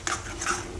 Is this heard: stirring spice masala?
yes